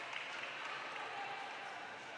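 Audience applause and cheering for roller derby referees at a Dublin bout, a steady wash of clapping and crowd noise filling the venue, even and sustained throughout.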